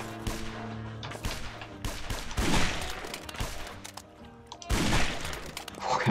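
Rapid, dense gunfire from the shooter video game Guns Gore & Cannoli, loud overlapping bursts and volleys rattling almost continuously throughout, with no speech.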